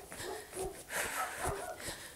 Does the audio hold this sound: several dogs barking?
yes